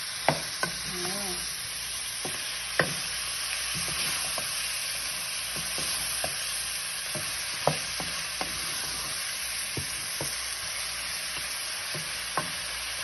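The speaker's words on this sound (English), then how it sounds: "I'm gonna brown it with some onion" Beef browning with onion in a pan, a steady soft sizzle with scattered sharp clicks and scrapes of stirring, fairly quiet and close, with no talking.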